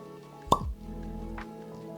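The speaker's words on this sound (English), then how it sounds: "the Woodford really does have the most beautiful cork pop out of any of the bottles" A single crisp cork pop from a Woodford Reserve bourbon bottle close to the microphone, followed by a brief fading resonance and quiet.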